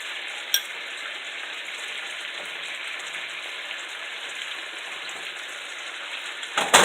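Asparagus sizzles steadily in a frying pan for a lemon garlic chicken dish, a constant broadband crackle and hiss with a sharp tap near the start and a louder clatter at the very end.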